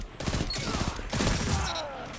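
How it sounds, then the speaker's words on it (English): Bursts of pulse rifle fire in Destiny 2 PvP form a dense, mid-level stream of clustered shots over game noise, with no talk. "Oh, that pulse rifle!"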